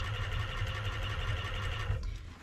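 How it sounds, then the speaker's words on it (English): A sewing machine stitches steadily around the edge of a fur hunting muff, its close, even motor hum and rapid needle chatter running continuously with no talking. "So now I'm going to sew around the whole circumference."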